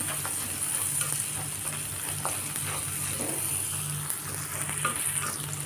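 Chopped tomatoes with salt sautéing in a pan for a Chettinad country chicken curry, a steady close sizzle and crackle with faint stirring scrapes throughout, no voices.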